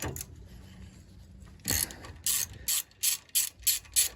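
Ratchet loosening a brake caliper bracket bolt on a 1997 Dodge Ram 2500 van with a 5.2 L engine, heard as quiet fiddling followed by a series of close, sharp clicking pawl strokes in an even rhythm.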